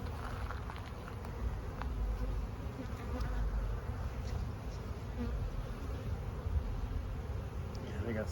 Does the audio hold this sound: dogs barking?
no